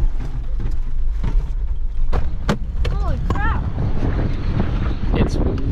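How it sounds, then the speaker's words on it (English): Steady strong wind buffets the microphone throughout while camping outdoors on Maui, a loud low rumble with voices talking briefly over it. "windy out here, y'all. Super windy."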